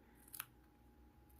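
Scissors snip yarn for a Smyrna needle tapestry in two quiet, crisp cuts, one early and one at the very end, over near silence in a calm indoor room.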